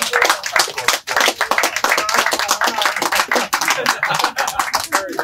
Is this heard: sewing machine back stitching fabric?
no